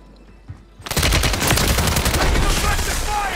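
Call of Duty: Warzone gunfire, starting with a single shot and then a loud, sustained automatic burst of rapid cracking rounds that continues to the end.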